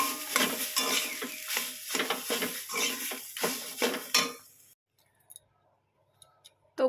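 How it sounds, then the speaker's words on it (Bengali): Frying food seasoned with salt and turmeric is stirred vigorously in a pan, a dense scraping and sizzling clatter for about four seconds before stopping abruptly, leaving near silence with a few faint clinks. "দিয়ে দেব হলুদ দিয়ে ভালো করে নাড়িয়ে চাড়িয়ে নেবো"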